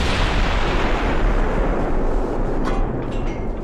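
Battleship naval guns firing in Ultimate Admiral: Dreadnoughts, a loud, continuous rumbling roar of heavy blasts with a few sharper pops near the end, with no voices.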